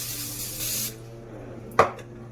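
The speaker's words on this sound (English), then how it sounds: "You could use olive oil spray." A single brief hiss of olive oil cooking spray misted onto a baking pan, a short burst with a faint clatter right after, heard close up in a quiet kitchen.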